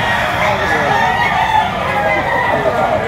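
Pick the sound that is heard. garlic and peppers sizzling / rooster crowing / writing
rooster crowing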